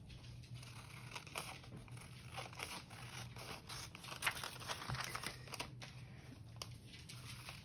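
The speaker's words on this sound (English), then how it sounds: "And let's trim this a little bit." Paper being trimmed with scissors, a string of quiet, close snips, rustles and crinkles at an irregular rhythm, faint overall with no talking.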